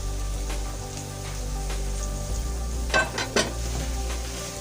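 Carrot halwa with raisins and khoya sizzling in a pan, a low steady hiss broken by a few sharp scrapes of the spoon stirring against the metal.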